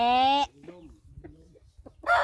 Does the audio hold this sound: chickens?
yes